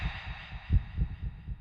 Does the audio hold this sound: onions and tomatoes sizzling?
no